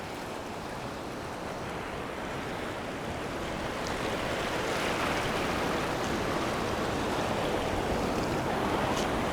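Ocean waves surge on a beach in a continuous broad roar that swells slightly louder partway through, close to the microphone with some wind buffeting.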